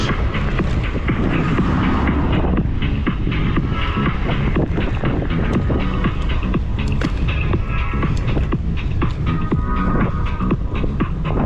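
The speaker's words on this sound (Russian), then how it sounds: "Ветер подлюка." Strong wind on an open coastal hiking route near Koktebel, Crimea, buffets the microphone in constant loud gusty roaring and rustling, close and unrelenting, with no clear speech.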